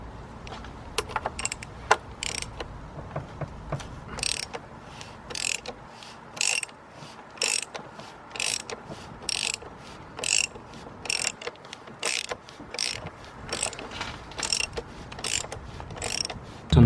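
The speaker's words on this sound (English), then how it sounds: "We're gonna remove it with a 27mm with a ratchet and an extended bar." A ratchet with an extension bar and 27mm socket working a car's oil filter loose, a steady series of crisp mechanical clicks in regular bursts, close and loud with no talk.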